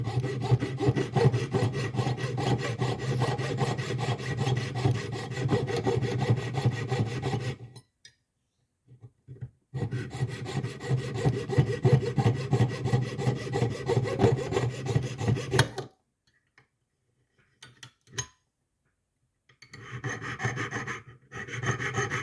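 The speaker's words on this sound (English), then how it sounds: "You see it wiggles around a lot once you've sawn through" A jeweller's saw with a fine number 3 blade rasps through a split shank ring in steady rapid strokes. Two long stretches of sawing are broken by pauses, followed by short, fainter bursts of strokes near the end.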